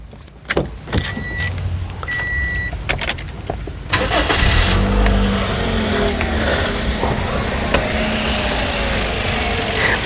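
A Toyota Altis engine starts and settles into a steady, close idle, with faint clicks and electric-window whirs just before the ignition.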